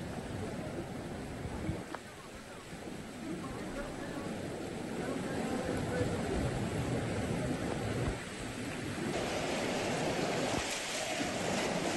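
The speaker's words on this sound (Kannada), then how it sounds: "ಭೋರ್ಗರಿತಾ ಇರುವಂತಹ ಗಂಗಾ ನದಿಯ ರೌದ್ರ ರೂಪವನ್ನು ನೋಡ್ತಾ ಇದ್ದೀವಿ" Swollen, flooded Ganga river at Rishikesh after heavy rain, a steady broadband roar of rushing water that fills the whole scene without letting up, with a narrator speaking over it.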